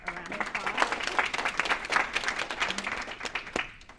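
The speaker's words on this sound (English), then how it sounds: "Let's give Christine Ashley a round of applause." Audience applause at a real estate conference in San Antonio, a dense crowd of hands clapping steadily and fairly close, holding level before thinning toward the end.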